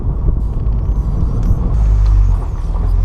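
A BMW Z3 runs after a Vanos rebuild, its engine and exhaust making a low, steady rumble that swells briefly, heard close with some road and wind noise and no talking.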